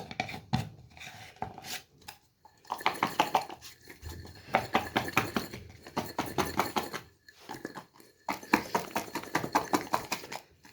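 Lemon chilli pickle is stirred and mixed in a dish with a utensil, giving irregular bursts of clinking, scraping and tapping against the container, fairly quiet and close, with brief pauses between strokes.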